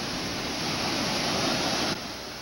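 Storm-surge waves from Typhoon Nona pound Albay Gulf at Legazpi City, a loud, unbroken roar of surf and rushing water that dips slightly near the end.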